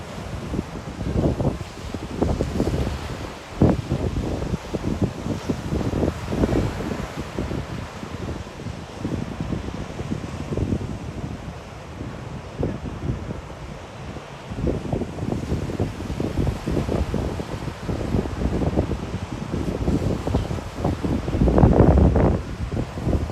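Strong gusting wind at a surf spot near the HMAS Brisbane dive site on a Saturday morning, roaring and buffeting the microphone in uneven bursts with waves in the background, and no voices.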